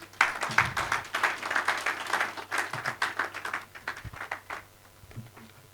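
Audience applause welcoming Dr. Kolawole Ojo at a leadership forum, a steady spell of moderate clapping that thins out near the end.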